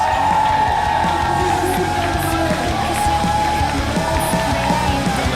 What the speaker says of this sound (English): Crowd are happy with that result.